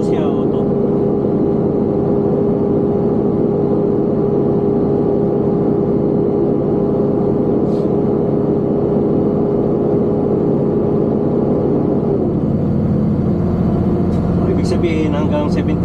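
A truck engine drones steadily under engine or exhaust braking on a long mountain downhill in BC, with the note dropping slightly near the end. Someone talks over the engine throughout.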